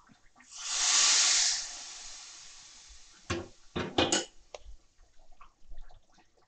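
A tempering is poured into boiling chickpea and brinjal curry: a loud burst of sizzling hiss swells and fades, followed by several sharp clatters and soft bubbling, close up with no voices.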